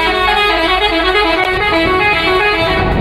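A cargo truck sounds one loud, sustained horn blast, close by and steady, holding for the full three seconds with a slight break partway through.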